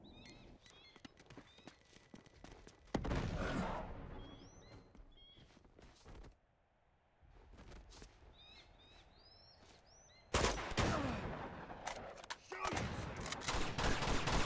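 Shotgun blasts and rapid gunfire erupt in bursts during a siege in Uncharted 2: Among Thieves, with louder volleys near the start and end around quieter stretches of chirps and effects.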